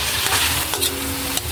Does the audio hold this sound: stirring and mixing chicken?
yes